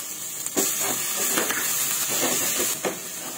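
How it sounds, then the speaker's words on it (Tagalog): Garlic, onion and minced pork sautéing in heated oil and melted butter in a saucepan, a constant bright sizzle with scattered stirring scrapes and a few louder bursts. "Dito ko ginisa yung tinira nating garlic,"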